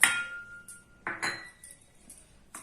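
A utensil clinks and scrapes against a bowl while chili powder, salt and coriander powder are mixed, with a few sharp metallic taps spaced out over a quiet background.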